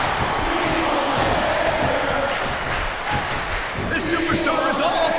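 A capacity wrestling arena crowd in WWE SmackDown vs. Raw 2007 roars and cheers steadily throughout, a dense, loud wash of noise with commentators talking over it.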